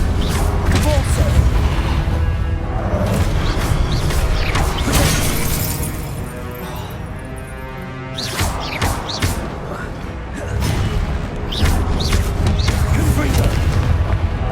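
Depulso repelling spell from Hogwarts Legacy gameplay, cast amid a busy fight: forceful whooshing bursts and booming impacts with crashing, shattering debris, loud and dense, surging again after a brief lull.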